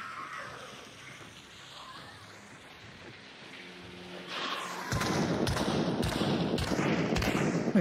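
A chaos bomb in the Hunt: Showdown video game sets off a rapid string of crackling pops and thuds after a quieter ambient stretch, the bursts continuing loudly to the end.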